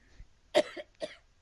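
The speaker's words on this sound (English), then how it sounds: "Excuse me, I need to cough." A single close, sharp cough bursts out, followed by a couple of softer throat-clearing coughs in an otherwise quiet room.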